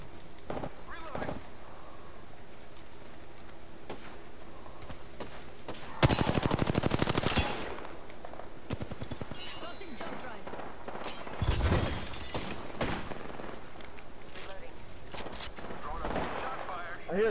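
Bursts of automatic gunfire in Apex Legends: one loud rapid burst, then a later shorter volley, with quieter game sounds between and a player talking over the action.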